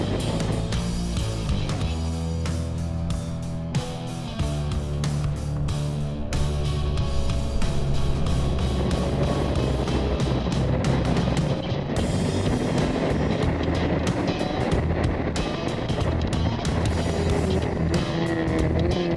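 Race cars lap a speedway oval at a track day, a dense continuous engine roar that swells and shifts steadily as cars pass, loud throughout with no voices.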